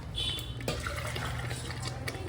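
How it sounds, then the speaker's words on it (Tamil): Water pours steadily into a cooking pot of sundal kurma with a splashing, gurgling wash, close and moderately loud. "நம்ம தேவையான தண்ணியை ஊற்றணும்."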